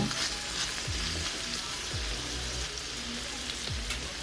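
Ivy gourd (kovakkai) sautés in a pan as a steady sizzle, with soft periodic scrapes of stirring, close up and fairly quiet, with no voices.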